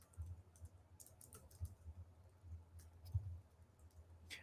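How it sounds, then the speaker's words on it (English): Quiet, steady typing on a computer keyboard, a run of soft key clicks with a few sharper taps, close by and alone. "I'm kind of typing out"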